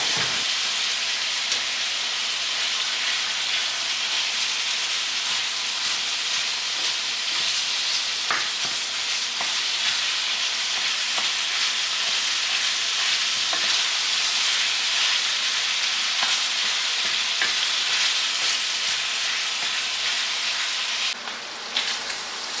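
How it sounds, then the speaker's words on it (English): Food fries in a hot pan with a dense, steady sizzle and crackle throughout, close by, broken by occasional sharp pops and a few stirring scrapes. "I'm gonna turn this up a little bit, and we're going to get this fried up"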